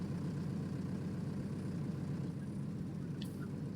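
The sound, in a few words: tractor engine driving in farming video game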